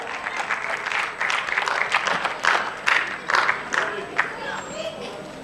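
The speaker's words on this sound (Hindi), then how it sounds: "थोड़ी ताली बजा दीजिएगा।" An audience at the opening ceremony of the Mr Hunk modelling hunt in Delhi claps in uneven, surging bursts that swell and fade over several seconds, with a few scattered voices and shouts mixed in.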